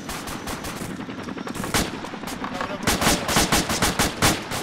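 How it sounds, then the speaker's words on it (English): PKM machine gun fire in a military video game, a long stretch of sustained automatic bursts that grows louder and punchier toward the end, with faint voices underneath. "Shots fired, South. PKM."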